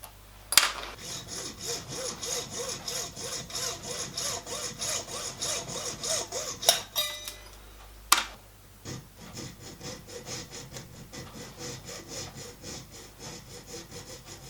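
Long small screws for a 5-inch gauge vintage steam locomotive model are cut down to 2.5mm by hand saw, with steady, close rasping strokes in a continuous rhythm and a brief pause midway.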